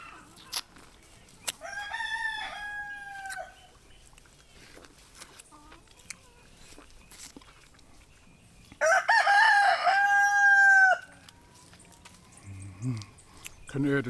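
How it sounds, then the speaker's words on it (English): Chickens and a rooster in a Jamaican garden: a rooster crows loudly and clearly twice, one long crow early and a stronger one later, with faint clucking and quiet background sounds between. "Can hear the chickens in the background."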